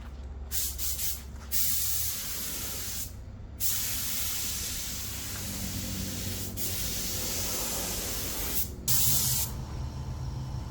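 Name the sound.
Inokraft Drizzle spray gun painting Ford fender, compressor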